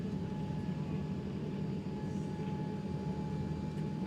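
Inside the economy cabin of a Singapore Airlines Boeing 787-10 Dreamliner, a low, steady engine and air hum fills the space, faint and continuous with no voices.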